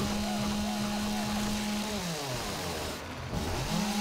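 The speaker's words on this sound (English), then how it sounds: "And chainsaw to the face" A chainsaw in the survival game 7 Days to Die gives a steady, loud engine drone that keeps going throughout, with the pitch dipping and shifting partway through, as if the saw is bogging down under load.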